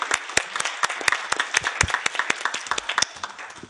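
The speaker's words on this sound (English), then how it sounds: "So just give a round of applause to the panelists and to the audience." Conference audience applauding panelists, sparse distinct claps from a modest crowd, fairly close and steady for a few seconds with no talk.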